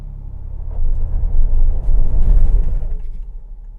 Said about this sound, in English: I'm trying to go forward, but I think the Bronco has met its match.